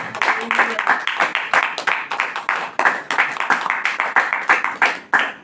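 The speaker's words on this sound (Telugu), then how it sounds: "అందరం చప్పట్లు కొట్టి దేవుని మహిమ పలుకుదాం" A church congregation claps hands together in a steady, fast rhythm, loud and close, a dense run of sharp claps filling the space with no pause.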